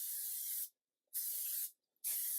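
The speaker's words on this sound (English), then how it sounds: "So you want to go ahead and spray this with some cooking spray" Cooking spray hisses into a springform pan in three short, even bursts separated by brief silences, close and clean with nothing else audible.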